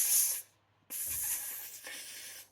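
A human voice imitates a gas leak with steady airy S hisses pushed through nearly closed teeth: one short hiss, a brief pause, then a longer sustained hiss, close and fairly soft.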